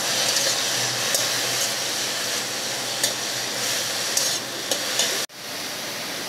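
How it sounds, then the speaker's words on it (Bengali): Bottle gourd fries in a pan with salt and turmeric, a steady dense hiss and sizzle, with occasional scrapes and clicks of stirring, and a sudden brief dip near the end; no one speaks. "একটু নেড়েচেড়ে ভেজে নেব।"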